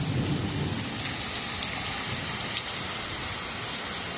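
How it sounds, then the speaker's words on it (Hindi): Heavy downpour in the US, a loud dense roar of rain beating on surfaces, with low rumbling thunder at the start; steady and close, with no voices. "कितनी ज़्यादा बारिश हो रही है यूएस में।"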